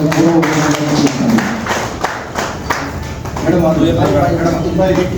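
Audience applause at a ceremony, a steady crowd clapping that runs throughout at close range with a dense patter, while a voice speaks over it.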